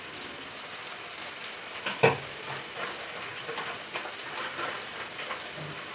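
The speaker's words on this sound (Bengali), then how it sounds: "গরম গরম বেগুন ভাজবো" Eggplant slices fry in hot oil in a pan with a steady close sizzle and hiss, plus a brief clatter partway through.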